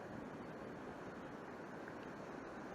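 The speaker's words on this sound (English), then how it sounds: "The waves break at the sandbank at the back" Sea waves breaking over a shallow sandbank on a UK coast, a steady broadband wash of surf with some wind rumble, continuous and fairly distant, with no talking.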